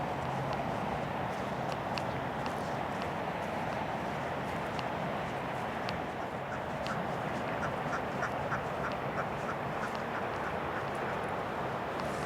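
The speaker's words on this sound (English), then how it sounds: "These are tough geese." Geese call repeatedly in Hollenbeck Park, Boyle Heights, Los Angeles, their honks scattered and moderately close over a constant background hiss, with some shuffling steps.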